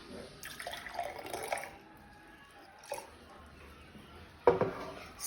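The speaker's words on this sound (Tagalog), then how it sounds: "we are going to fill the glass with warm water" Warm water being poured into a glass to half full, quiet splashing trickles in short bursts separated by pauses, with a sharper splash near the end.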